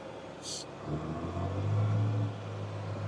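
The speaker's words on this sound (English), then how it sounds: "And then turning my PTO on down here. Running in second gear." A tractor idles and hums with its PTO engaged in second gear during spring hay cutting, a steady low engine drone that swells slightly in the middle, preceded by a brief high click.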